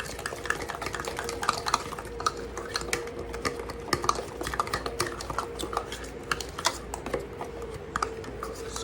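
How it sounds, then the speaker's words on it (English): A utensil stirs egg into thick squash pup batter in a bowl, a steady, close scraping and clicking that runs without a break. "Get my egg stirred up in it."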